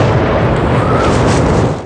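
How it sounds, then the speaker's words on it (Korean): A film explosion destroys a culverin cannon in a Swedish camp during the Polish Deluge era, a loud, deep continuous boom that rumbles heavily and then begins to fade. "그 빌어먹을 컬버린 대포를 파괴하기 위해 스웨덴 진영에 잠입하는 크미치스."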